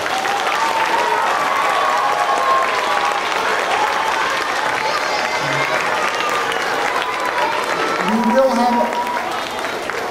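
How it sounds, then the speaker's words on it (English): Sustained applause from an audience at a school Veterans Day ceremony honoring veterans, steady and full for the whole stretch with crowd noise underneath. "Please give them a round of applause."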